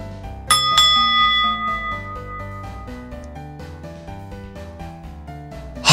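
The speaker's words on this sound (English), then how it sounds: "Hey Clem, there's a bell here with a message next to it. Ring for service. Can I ring it?" A service bell in a video game gives a single bright ding that rings out and fades over steady background game music.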